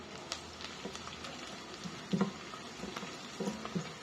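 Onions fry in a pan with green chillies and curry leaves, giving a soft continuous sizzle. Scattered light scrapes and taps of stirring rise above it, with a few louder clatters near the end.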